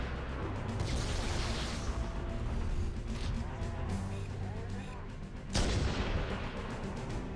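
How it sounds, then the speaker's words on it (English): A grenade explodes in Halo: Combat Evolved, a sudden loud blast late in the passage. It rises over a continuous rumble of game combat, engines and gunfire that fills the whole stretch. "I threw a grenade."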